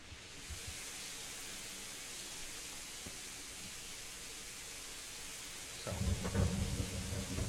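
A thunderstorm rolls through a medieval countryside in the video game Kingdom Come: Deliverance, with steady rain hissing throughout and a loud, rumbling crack of thunder breaking in near the end.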